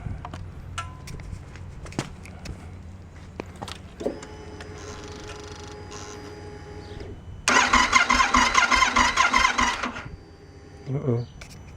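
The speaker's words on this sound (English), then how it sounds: "so ready to start the engine." A Yamaha Super Tenere motorcycle engine, throttle bodies just synchronized, cranks and fires after a short whirr of the starter, then settles into a steady idle with a louder surge partway through, heard close up amid clicks and handling noises.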